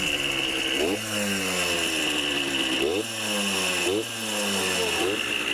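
A fifty-year-old dirt bike engine idles and revs with a rough, buzzy drone, its pitch rising in several short blips throughout, loud and near, with excited voices over it.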